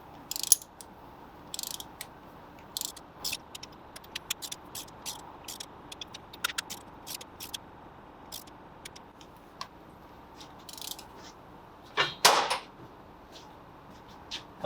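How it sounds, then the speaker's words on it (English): A torque wrench clicks while tightening spark plugs on a Volkswagen Jetta GLI/GTI, with sharp, close ratcheting clicks in short irregular bursts, a louder cluster near the end, over a quiet background. "So we'll use our torque wrench. And click away."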